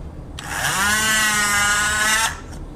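A single sustained whine of a power drill running for about two seconds, close by, starting and stopping abruptly.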